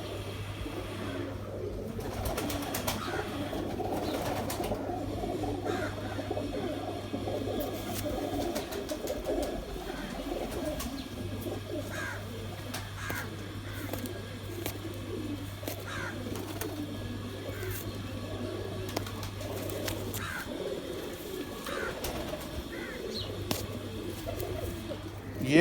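Pigeons coo steadily at a middle distance under a constant low hum. Soft calls and rustling continue throughout, with faint voices in the background.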